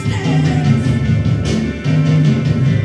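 An electric guitar plays a counter melody, a dense, driving line of quick repeated notes over a full band mix, loud and continuous without speech.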